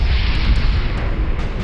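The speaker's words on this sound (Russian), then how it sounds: "В очередной раз раздается мощный взрыв" A rocket explodes beneath a T-Rex in the survival horror game Dino Crisis, a loud, heavy blast with a deep, rolling rumble that fills the short moment with no talking.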